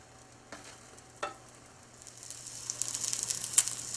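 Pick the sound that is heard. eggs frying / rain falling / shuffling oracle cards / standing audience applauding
eggs frying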